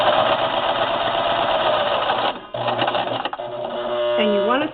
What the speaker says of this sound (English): When I do this seam over to the left of it, I will be lining the seam up on the right side of the presser foot.